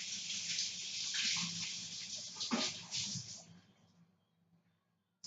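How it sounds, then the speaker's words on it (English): Tap water pours steadily in a kitchen while a strainer is rinsed during vegetable stew preparation, then the flow tapers off and stops, leaving near silence. "So let's rinse the strainer."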